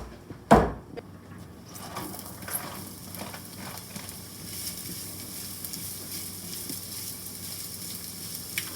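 Onions and garlic hit hot olive oil with a sharp thump, then settle into a steady, soft sizzle that carries on without a break.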